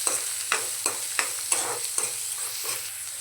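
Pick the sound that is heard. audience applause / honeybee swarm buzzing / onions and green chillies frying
onions and green chillies frying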